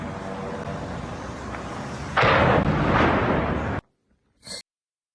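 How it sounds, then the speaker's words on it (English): An explosion from a drone attack in St. Petersburg erupts as a loud, sustained roaring blast over steady background rumble, cutting abruptly to silence before a short final burst. "Alright, go ahead and watch. There's gonna be an explosion."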